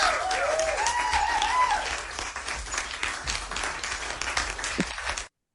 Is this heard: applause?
yes